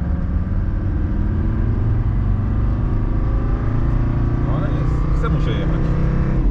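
A Fiat 126p's small engine runs steadily while the car drives, a loud continuous drone that fills the whole stretch, with people talking over it.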